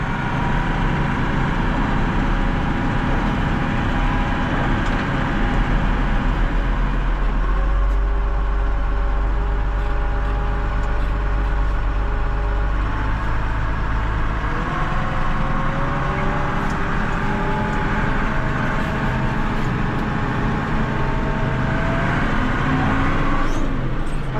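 A tractor clearing snow down to the asphalt on a winter road, its engine droning loudly and continuously with shifting tones as it labors and slips, close to the listener.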